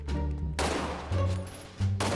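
Three heavy bursts of gunfire from a GTA RP street shootout crack out in quick succession, loud and close, each cutting off sharply.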